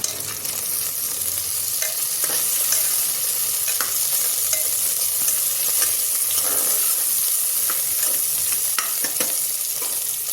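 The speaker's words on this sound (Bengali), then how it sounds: "পেঁয়াজ ভাজা হয়ে গেছে দিয়ে দিচ্ছি কেটে রাখা টমেটো" Chopped tomatoes tipped onto fried onions in a hot pan for an egg bhapa and ol vegetable dish, sizzling loudly and steadily with scattered crackles and occasional stirring scrapes, no talking.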